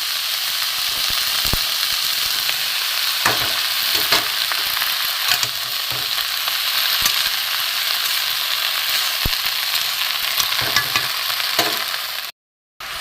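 Cabbage stir-frying with bottle gourd greens in a pan, a steady close sizzle with repeated scraping of a spatula as the vegetables are tossed, a short silent gap near the end.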